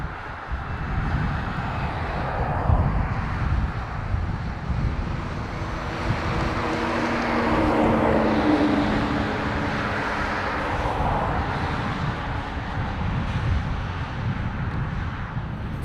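ATR turboprop on approach to Dublin Airport, a steady engine drone that swells and thins as the propeller pitch changes, with some wind buffeting, no voices.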